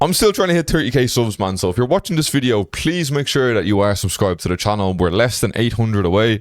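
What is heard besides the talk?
No everyday noises stand out.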